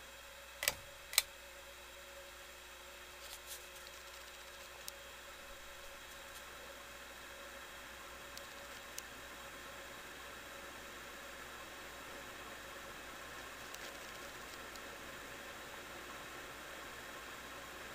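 A 1988 Nadair EL-1000 36-inch fan runs on high, giving a faint, even whooshing hum with a steady low tone, opened by a couple of sharp clicks and dotted with occasional soft ticks.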